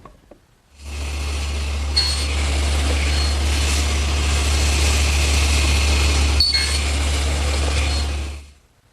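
A table saw cuts a shoulder on a board for a harvest table tenon, a loud, sustained motor drone spinning up and running for about eight seconds, with the blade's bite on the wood briefly heard, then winding down.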